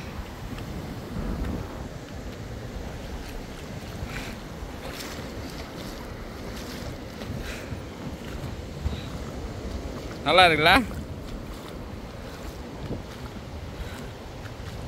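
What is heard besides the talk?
small sea waves at Muzhappilangad beach, Kerala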